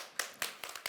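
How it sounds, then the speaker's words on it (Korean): Sparse hand claps from a small audience welcoming two volunteers at a health talk, about five sharp separate claps in quick succession, close and fairly quiet. "여러분 박수 한번 주세요"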